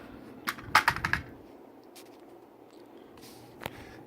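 Folding shockwave brace on a custom Extar EXP 556 pistol snapping shut with a quick cluster of sharp mechanical clicks, close and fairly quiet, followed by a faint single click.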